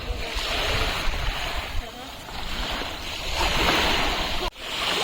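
Sea waves wash around a boat off Lakshadweep, a continuous rushing surf with wind-like hiss that swells and dips, close and fairly loud, ending in a brief knock.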